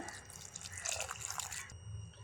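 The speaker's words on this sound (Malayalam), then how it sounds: "ഇനി ഇതിലേക്ക് വേകാൻ ആവശ്യത്തിന് വെള്ളം ഒഴിച്ചു കൊടുക്കാം" Water splashes and trickles into a cooking pot in a steady stream for a couple of seconds, then tapers off; close by, no voices.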